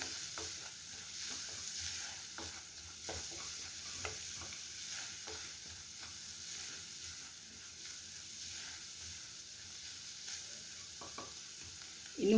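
Onions frying with masala on a low flame for masala paneer give a soft, continuous sizzle, broken by occasional stirring scrapes and taps of a spoon against the pan.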